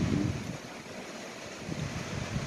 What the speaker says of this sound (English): there's like 30-mile-an-hour winds out here